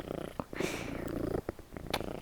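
A pet cat purrs up close with a soft, rumbling rhythm, mixed with faint handling noises and brief bumps.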